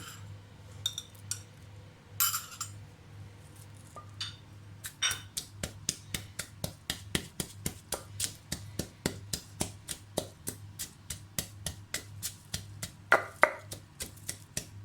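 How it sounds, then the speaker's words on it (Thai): Chili and garlic pounded in a mortar with a pestle, a long run of sharp, evenly paced knocks that begin sparse and settle into a steady quick rhythm, close and crisp over a low background hum. "ตำพริกกับกระเทียมก่อน"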